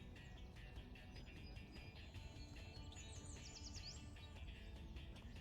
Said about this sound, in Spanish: Ahí están esos pajaritos otra vez.